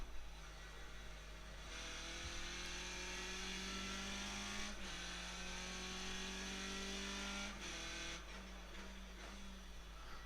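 Skip Barber race car engine in iRacing at Okayama, a steady mid-pitched drone that dips and jumps as the engine is blipped on downshifts, with a few sharp breaks in the tone.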